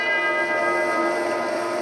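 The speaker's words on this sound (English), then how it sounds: "There's the bell for round number 3." Boxing ring bell struck to signal round three of a fight, a sustained metallic ringing with many steady overtones that fills the short span at strong, even loudness.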